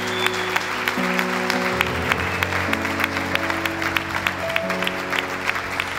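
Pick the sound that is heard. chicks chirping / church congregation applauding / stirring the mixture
church congregation applauding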